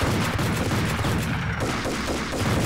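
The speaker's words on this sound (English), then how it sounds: "Just fire them shots, honey. Keep firing." Sustained gunfire in the video game Max Payne, a dense, loud stream of rapid shots continuing without pause for the whole stretch.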